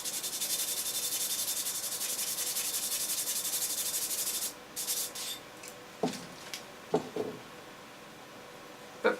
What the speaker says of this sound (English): Let me sand it back a little bit more.